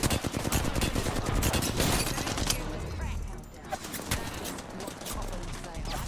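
Distant gunfire from a firefight down a hill in the battle royale game Apex Legends: dense, crackling bursts of rapid shots that fade midway, then resume, under loud game noise.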